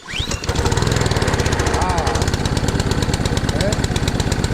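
A Simpson pressure washer's Honda GC190 engine catches and settles into a steady, loud, fast-pulsing run, a rhythmic mechanical chug that holds from start to finish.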